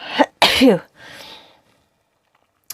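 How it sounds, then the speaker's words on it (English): A single close, loud sneeze with a sharp intake and explosive burst, trailing into a breathy exhale, followed by silence. "I'm going to sneeze."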